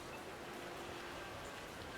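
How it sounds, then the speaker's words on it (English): Steady rain pours down in the Like a Dragon: Infinite Wealth video game, set in Hawaii. It is a dense, even wash of patter that runs unbroken throughout, with no voices. "And I just have to wait for the rain to stop"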